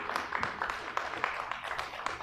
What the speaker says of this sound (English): Let's give God a hand clap, church, for he's good